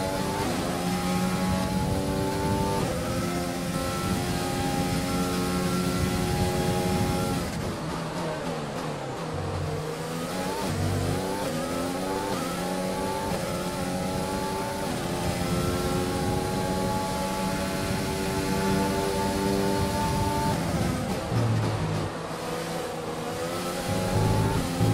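Formula One car engine in the F1 2020 racing game, revving continuously and climbing through gears as it accelerates out of the pit exit, steady and prominent with no talk.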